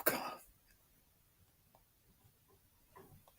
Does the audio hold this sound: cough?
yes